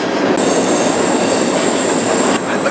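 Freight train rolling through wild, deciduous Appalachian woods, a loud continuous close rumble of rail cars with a steady high wheel squeal running over it throughout.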